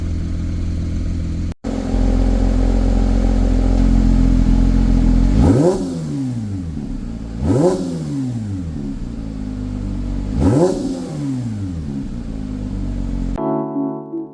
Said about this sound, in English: you can activate the Sport Exhaust system